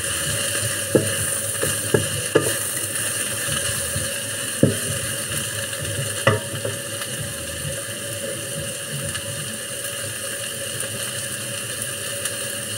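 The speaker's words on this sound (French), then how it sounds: "L'eau est en train de bouillir." Water boils in a pot for noodles, a constant low bubbling rumble under a steady background hum, with a few sharp clicks scattered through it.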